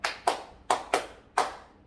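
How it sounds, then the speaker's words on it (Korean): Five sharp, close hand claps ring out in an uneven rhythm, each one quick and bright and separated by brief silences. "이렇게 박수를 치면"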